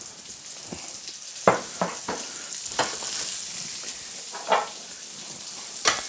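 Pieces of pumpkin fry in hot fat in a pan with a steady close sizzle, broken by several sharp scraping stirs of a utensil, and no one speaks.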